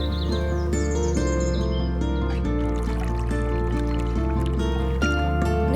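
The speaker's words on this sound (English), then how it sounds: "The birds singing a song to praise the sun." Birds chirp and tweet intermittently over sustained background music, the calls light and high against the steady tones.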